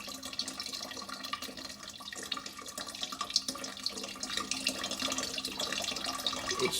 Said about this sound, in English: has used classical references to Ctesibius's work to build a replica of one of his earliest water clocks.